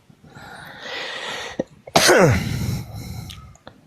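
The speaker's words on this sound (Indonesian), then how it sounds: "Mohon maaf batuk" A single sharp, explosive cough bursts out close to the microphone, preceded by a breathy intake and trailing off into rough exhalation.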